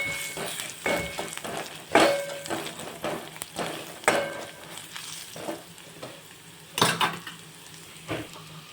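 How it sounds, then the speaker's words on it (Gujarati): Spoon scrapes and taps stir turmeric and chili powder in a pan, with a soft sizzle underneath. The strokes are irregular, with sharper knocks near the start and again later, heard close and moderately quiet. "હવે આપણે બધા મસાલાને મિક્સ કરી દઈશું"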